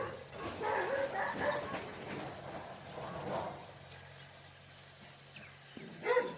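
Dogs barking at a moderate distance in irregular bursts, with outdoor background noise and a sharper bark near the end, as several dogs gather near people eating outdoors.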